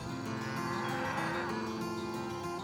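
Cattle low and moo on a Deseret ranch, a continuous lowing chorus of several animals over a steady outdoor background, no voices.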